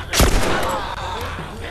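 Gunfire in The Last of Us Remastered, a loud sharp shot near the start with a decaying tail, followed by tense game ambience.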